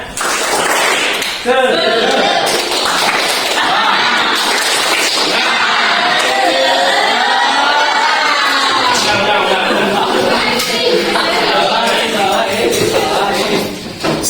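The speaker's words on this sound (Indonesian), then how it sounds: "Tepuk semangat." A group in a school classroom claps together in a rhythmic clapping chant, the sharp claps loud and close, mixed with crowd voices and cheering.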